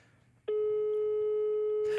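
A steady telephone busy signal sounds as a single long, loud continuous tone that starts abruptly and holds clear and alone for about a second and a half.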